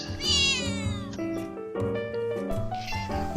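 A cartoon cat meows several times in a row, loud and close, with drawn-out, wavering cries and a musical backing underneath.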